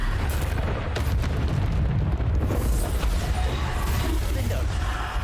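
A Bombarda explosion spell cast in the video game Hogwarts Legacy bursts with dense, booming blasts and crackling debris during combat, loud and continuous, with a voice calling out partway through.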